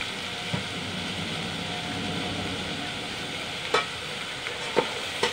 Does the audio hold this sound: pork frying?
yes